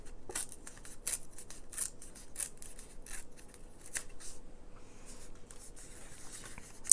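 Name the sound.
tearing paper for a mini album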